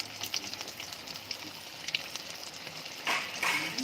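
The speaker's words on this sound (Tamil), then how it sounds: "சூப்பராக சுட சுட வந்து நல்லா மீன் வந்துட்டு பொறிஞ்சிகிட்ருக்கு" Fish frying in a pan of hot oil, a faint, steady crackle and sizzle with scattered pops, swelling briefly louder near the end, no voices over it.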